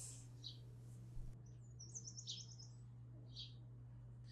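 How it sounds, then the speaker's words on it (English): Small birds chirp and tweet in short bursts somewhere in the background of an office, faint and intermittent over a steady low electrical hum. "as you can probably tell from the chirping in the background of the video"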